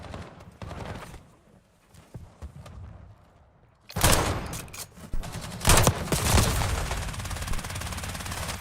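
Gunfire in Call of Duty Black Ops 6 online play: scattered shots at first, then sustained loud bursts of rapid automatic fire that continue steadily to the end.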